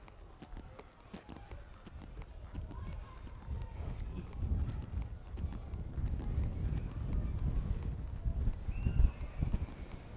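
A young horse trots and canters around a showjumping arena, its hoofbeats a rhythmic, fairly distant drumming over wind noise. The footfalls grow busier and heavier toward the end, with faint voices in the background.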